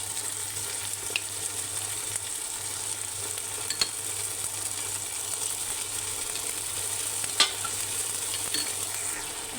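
Yogurt is stirred into tomato masala frying for mutton biryani, giving a continuous soft sizzle with faint scraping and a few light clinks of the spoon against the pan.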